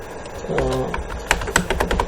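Someone types Java code on a computer keyboard, producing close, irregular clicks and clacks in short bursts. No one speaks.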